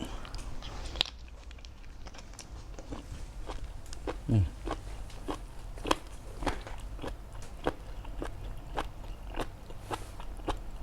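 Crunchy steamed squid eaten with seafood dipping sauce, a run of close, quiet bites and chewing crunches at a steady pace, with a faint voice now and then.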